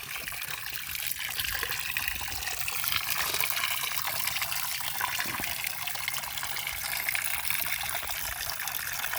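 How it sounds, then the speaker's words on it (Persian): Water from a natural spring in the Zagros highlands pours in a continuous, close, rushing flow that stays loud and even throughout. "یا دوست دارید صدای آبو بشنوید"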